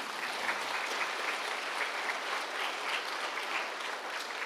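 Audience applause at a church parents' prayer meeting, steady dense clapping that holds at an even level for the whole stretch with no voices over it.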